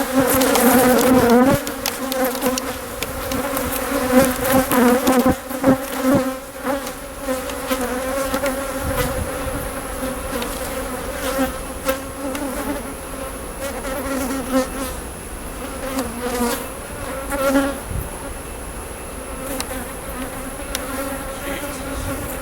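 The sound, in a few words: angry bees buzzing and hitting the camera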